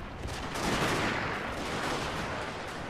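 Cannons fire in a Shogun 2: Fall of the Samurai battle, a dense, continuous roll of booming gunfire and blasts with no gaps, steady and fairly loud throughout.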